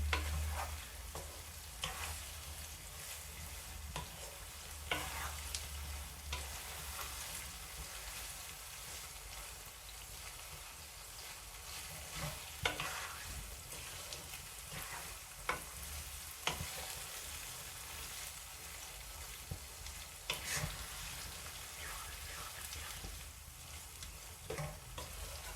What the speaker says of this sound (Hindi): अब मैं टमाटरों को अच्छी तरह भून लूँगी